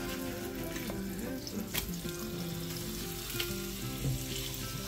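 Trout fillets fry in butter in a pan with a steady, close sizzle and crackle that runs unbroken throughout, with no talking.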